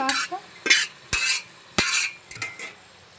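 Pasta being stirred in a pan with a utensil, several distinct scraping and clinking strokes of metal against the pan with brief pauses between them, close by and with no talking.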